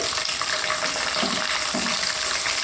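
Dried and green chillies frying in hot oil in a pan, a steady, dense sizzle that fills the whole clip with no talk.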